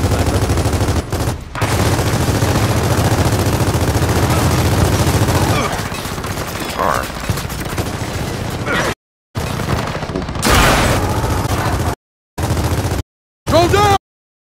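Heavy gunfire in Gears of War 4, dense fusillades and rapid shots layered with booms, loud and continuous before breaking into short bursts separated by silent gaps, with voices talking underneath.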